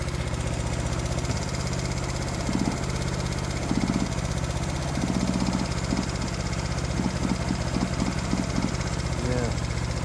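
A 54-year-old Honda CB350 motorcycle engine with a carburetor fault, running unevenly at idle with a steady low drone and irregular pops, while people talk over it.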